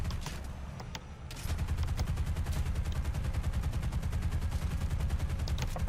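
Sustained machine-gun fire rakes a bomber in War Thunder, a fast, regular stream of rapid gunshot pulses that grows louder after a brief lull and continues densely over a low engine drone.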